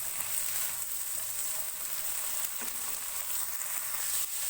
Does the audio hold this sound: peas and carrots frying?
yes